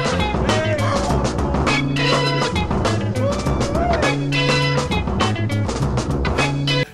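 A funk track plays from a vinyl record, a dense and steady groove with repeating bass and horn-like notes that fills the whole stretch at even loudness and then cuts off at the very end.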